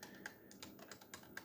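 Keys tapped on a computer keyboard while entering a website name, a quick irregular run of light clicks with a couple of sharper strokes, close and alone.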